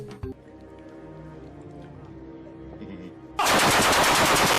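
Plants shooting zombies in the video game Plants vs Zombies: after quiet game sounds and a brief thump, a loud, rapid burst of shooting plays for about a second and a half at the end.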